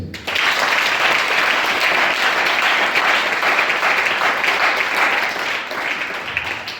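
A church congregation applauds in a sustained, dense wave of clapping that starts abruptly and holds steady for several seconds before easing slightly, loud and close with no talk over it.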